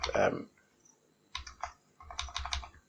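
Bursts of keyboard typing, likely on a computer keyboard, come in two short clusters of rapid clicks after a louder initial thump, close and fairly quiet with no talking.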